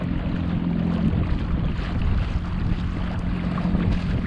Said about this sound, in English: now we're definitely going into the wind